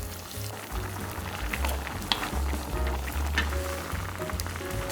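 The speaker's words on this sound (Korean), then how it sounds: "양념이 바글바글 끓을 때 데쳐놓은 오징어를 넣어요" Gochujang seasoning sauce bubbles and sizzles steadily in a pan as blanched squid goes in, a close, continuous frying hiss with small pops and no talking.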